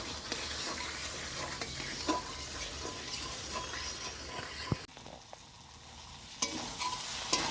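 Spice paste for a katla fish curry fries and is stirred in a pan, a steady close sizzle with scraping strokes throughout, briefly quieter near the end before the stirring resumes.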